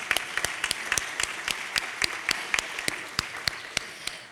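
An audience at a keynote conference session gives a round of applause, heard as distinct individual claps. They come at a steady, loose rhythm over quiet room noise and stay moderately soft throughout.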